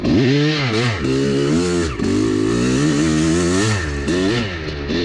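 A Honda two-stroke motorcycle with its R/C power valve removed, revving hard up through wide open throttle in repeated rising and falling sweeps, loud and close, with brief dips between pulls and no talking.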